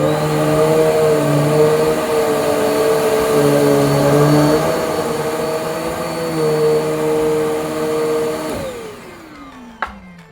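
A Riccar R25 Premium Pet upright vacuum cleaner runs loud and close with a steady whine that shifts slightly, then switches off and winds down, followed by a single click.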